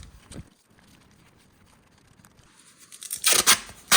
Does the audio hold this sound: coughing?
no